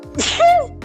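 A single sharp sneeze from a person in a quiet indoor room, one quick forceful burst with a brief rising vocal tail.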